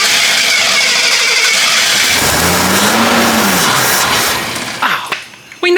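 An old Jeep engine, left sitting for 25 years, cranks and catches, then revs with a rising and falling roar, loud and close, before cutting out with a few rattles near the end.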